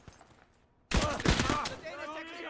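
Rifle gunfire from the World War II game Gates of Hell: Ostfront bursts in loud and close as a dense volley of overlapping shots after a near-silent start, with sharp cracks that ring on over a noisy battle.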